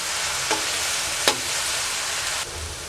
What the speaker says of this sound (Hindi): अनियन का कलर चेंज होने तक इस तरीके से इसे पका लेंगे